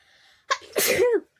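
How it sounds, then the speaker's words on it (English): A single close sneeze: a sharp inhaled catch followed by a loud explosive burst, short and abrupt. "You made me sneeze again."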